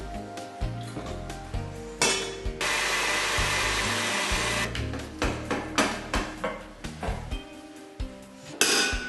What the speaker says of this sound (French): je vais monter mes blancs en neige